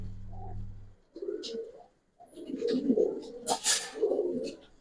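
Pigeons coo several times in a loft of Giribaz pigeons, the soft throaty calls coming close, with a brief low hum at the start and a bright rustle or flutter near the end.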